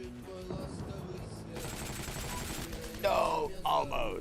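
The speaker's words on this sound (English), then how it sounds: "there's like a few people out here just shooting them" Gunfire crackles in the online shooter Heroes & Generals, bursts of distant and nearer shots layered over game sounds, with a louder volley toward the end.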